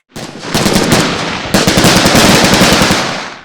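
Rapid bursts of assault rifle fire from a student shooting drill crack loudly and close, two sustained strings of shots separated by a brief pause.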